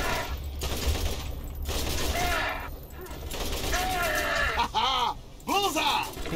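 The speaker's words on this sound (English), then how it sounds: "So your turret will stop shooting me" Automated turret fire in Borderlands Enhanced Edition, with rapid bursts of shots rattling in repeated volleys. Pained, wavering character groans and cries sound between and over the bursts.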